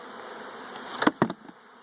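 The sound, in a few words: honey bees buzzing around a hive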